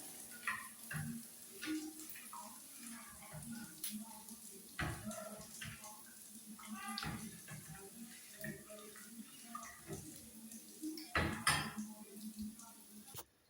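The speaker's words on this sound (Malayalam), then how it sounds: "മോര് കറിക്ക് കടുക് വറുക്കാനായിട്ട് പാത്രം വെച്ചിട്ടുണ്ട്" A cooking pot, set on to temper mustard seeds for buttermilk curry, clattering and scraping against metal now and then, quiet and close, with water running intermittently in between.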